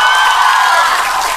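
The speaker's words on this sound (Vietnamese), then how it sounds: "Một tràng pháo tay dành cho Vũ Lộc Tiến." Audience applauding a performer at a Vietnamese talent show circus act, a steady wash of loud clapping and crowd noise throughout, with no pauses.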